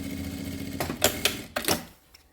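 A sewing machine stitches a laptop sleeve, running a safety seam around the edge. It makes several short bursts of quick mechanical chattering, separated by brief pauses, and ends in near silence.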